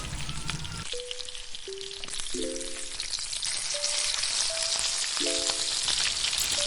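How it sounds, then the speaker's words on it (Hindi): Cumin and spices fry in hot oil for Delhi-style beef nihari, giving a close, continuous sizzle with faint melodic tones in the background. "फ्राई हो रहा है तो"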